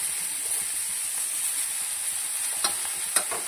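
Vegetables with tempering frying in a pan, a steady close hiss of sizzling oil broken by a couple of sharp stirring scrapes near the end. No talk.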